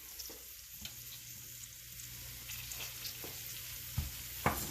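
Vegetables with jalapenos and garlic frying for a frittata, a steady close sizzle in the pan with occasional scraping stirs and clacks, no talking.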